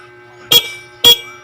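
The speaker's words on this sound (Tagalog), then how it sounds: "Ito yung bagong businang bili," Two short, loud honks from a newly bought motorcycle horn, evenly spaced about half a second apart, close by.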